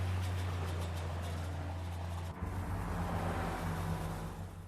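Car pulling away and driving off after its engine has been fixed, a steady close engine hum with a brief dip midway before it builds and then fades slightly at the end.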